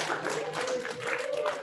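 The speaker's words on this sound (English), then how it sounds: "I hope you heard the applause for you." Applause from an audience honoring a Holocaust survivor at a school presentation, steady soft clapping filling the room throughout without a break.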